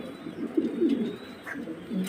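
Two female pigeons, one a Magpie Pouter, coo softly in low, repeated murmurs at a pigeon sale, with faint background noise and no talk.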